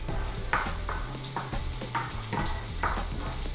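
Asparagus fries over a low flame in browning sage butter in a pan, a soft sizzle broken by repeated stirring scrapes and light clinks in an irregular rhythm, close and fairly quiet.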